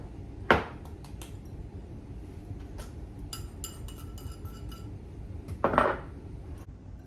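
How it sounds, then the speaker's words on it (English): A utensil stirs spices into dry ranch mix in a bowl, with two louder clinks against the bowl separated by several seconds and light scattered scraping between them. "we're just going to mix the dry ingredients together"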